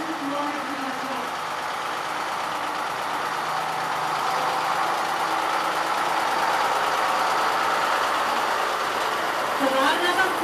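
A military recovery vehicle with a crane stands at a mechanized infantry brigade parade, its engine idling in a steady, fairly loud rumble that runs throughout with no clear gaps.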